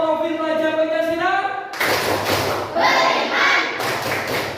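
Students chant the Pancasila student profile clap rhythm in a classroom, their young voices joined by loud, steady thumping claps that go on throughout.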